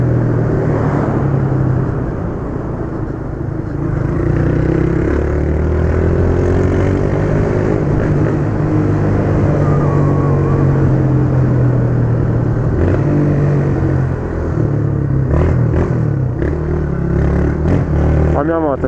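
A motorcycle engine rumbles steadily throughout, close and loud, with a voice talking over it.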